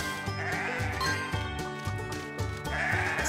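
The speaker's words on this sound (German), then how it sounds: "Sky hat die Schafe gefunden." Sheep in a Paw Patrol farm rescue cartoon bleat repeatedly over rhythmic background music, the calls loud and close.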